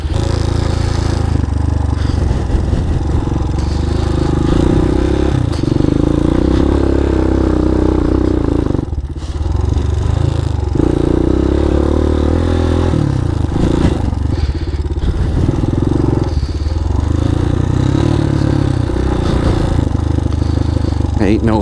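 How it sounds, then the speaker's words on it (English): A motorcycle is ridden through loose sand, its engine droning loud and close throughout with repeated rises and dips in revs and some scraping clatter. "I don't think I've ridden in sand on a motorcycle in over 20 years."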